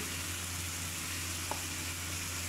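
Potatoes sizzle in hot ghee with spice masala, a steady low frying hiss with a faint stir, close and even throughout.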